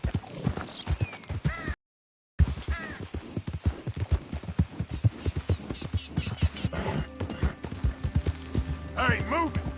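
Horse hooves clip-clopping at a fast rhythmic gait in Red Dead Redemption 2, steady close beats with brief whinnies, a short dropout partway, and game character voices talking over it.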